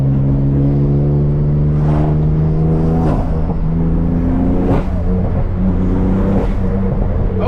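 The warm turbo engine of a 2016 BMW M3 revs up and down during a hard drive. The loud engine drone rises and falls in pitch several times, with brief shifts between the pulls.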